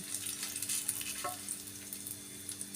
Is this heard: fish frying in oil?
yes